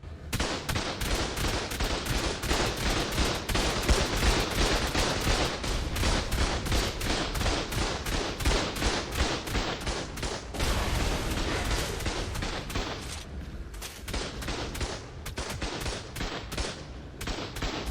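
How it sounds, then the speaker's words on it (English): Rockets fired from a stego at turrets in the video game ARK, a relentless barrage of rapid, loud overlapping gunfire and blasts filling the whole stretch, easing slightly near the end. "Then I hopped on to my stego and started firing rockets."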